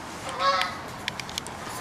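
Geese honk outdoors, a brief rising call up front followed by a few faint, distant honks over steady background noise.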